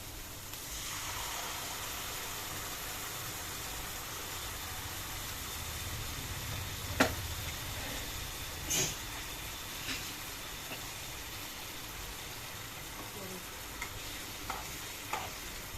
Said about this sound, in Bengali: এখন আমরা এর মধ্যে দইটাকে ঢেলে দিচ্ছি।